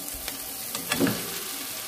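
Chopped tomato and coriander leaves drop into a pan of frying chire pulao, a flattened-rice dish, giving a soft, quiet sizzle with light stirring and one brief louder crackle.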